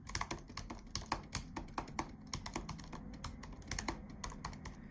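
Fast, continuous typing on a 2018 MacBook Pro 13-inch butterfly keyboard, crisp clicky keystrokes close up in an even rhythm with no speech.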